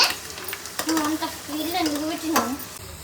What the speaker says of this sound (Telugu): ఆయిల్లోన మిరపకాయలు సేమ్ పోపు వేసుకున్నట్టు వేసేసుకోవడమేనండి